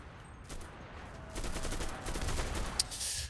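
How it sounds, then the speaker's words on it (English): Rapid gunfire from an MKB-42 rifle in the World War II shooter Enlisted, with a crackling burst of automatic shots swelling midway and continuing steadily to the end, moderately loud amid battlefield noise. "The recoil of the MKB-42 sadly does not lend itself very well to high accuracy sniping actions"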